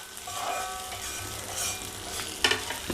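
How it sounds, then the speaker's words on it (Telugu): Split black gram (urad dal) frying and being stirred in a pan until golden, a steady close sizzle with scraping stir sounds and a sharper clatter near the end, no talk. "ఇవి కొంచెము బాగా దోరగా వేగాలండి, కొంచెం గోల్డెన్ కలర్ వచ్చేదాకా."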